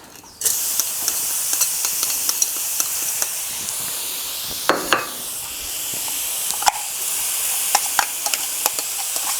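Blended curry paste for a canned-fish noodle curry stir-fried in a pan: a steady, bright sizzling hiss from start to finish, close up, broken by scattered scrapes and taps of a utensil against the pan.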